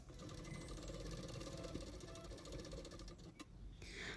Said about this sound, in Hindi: अभी उसको मैं पीछे की तरफ फोल्ड करते हुए सिलाई कर रही हूँ।